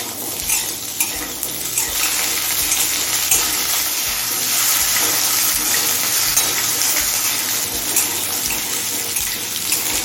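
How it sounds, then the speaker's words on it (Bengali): Potatoes fry in a pan after black cumin seeds with a loud, dense, steady sizzle and crackle that fills the whole stretch, close by, with stirring scrapes. "এখন দিয়ে দিচ্ছি আলু এবার আলুটা কিছুক্ষণ সময় নিয়ে ভেজে নেব"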